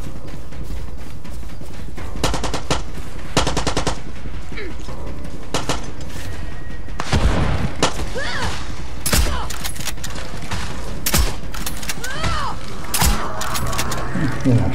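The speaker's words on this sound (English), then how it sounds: "Some idiot shoot at me with a grenade launcher," Rocket launcher blasts and gunfire in Far Cry 6, repeated loud explosive bursts and crackling shots across a busy combat scene, with a voice talking over the action.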